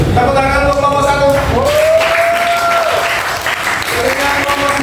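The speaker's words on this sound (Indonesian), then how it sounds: "Tepuk tangan untuk kelompok 1." Classroom applause for a student group, steady clapping from students mixed with overlapping voices and tonal sounds, loud and close throughout.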